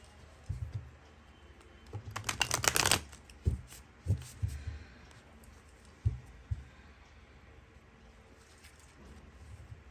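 A tarot card deck is shuffled up close, a burst of quick riffling flutter followed by scattered soft taps and clicks of cards being squared and set down, fairly quiet overall.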